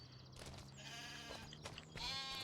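Sheep bleat in a farming video game, several wavering calls overlapping one another against a steady low background hum, moderately loud with no talking.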